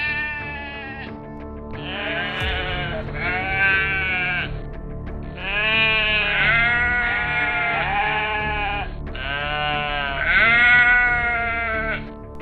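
Sheep bleat repeatedly, several long wavering cries close by, rising and falling in overlapping bursts with a steady rumble beneath.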